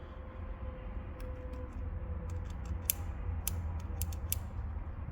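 The spring-loaded cylinder pin on a Cimarron 1873 single-action revolver is worked, giving a string of faint, sharp metallic clicks and creaks over quiet room noise.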